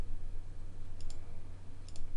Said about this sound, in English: Aren't you clicking no more?